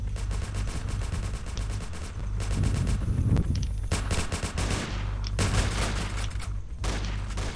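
Gunfire rattles in the video game Breaking Point, with sustained automatic bursts, loud, close and dense over a low steady rumble, pausing briefly between volleys.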